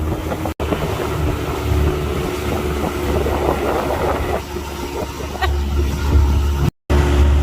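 Steady low motorboat engine drone on Lake Havasu, Arizona, with wind buffeting the microphone and water noise, continuous and fairly loud throughout, with two brief dropouts.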